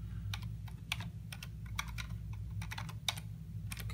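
Keys clatter on a computer keyboard in quick irregular bursts of close, light clicks over a steady low hum, with no voices.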